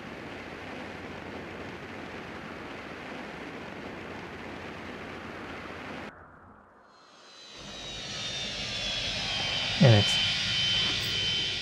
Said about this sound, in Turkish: Şöyle biraz havalanıp tekrar iniş yapayım.